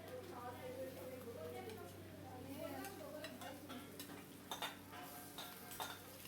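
Boiled potato being stirred into fried onions in a pan, faint sizzling under scraping and clinking of a spatula against metal, with occasional sharper knocks and a person talking throughout.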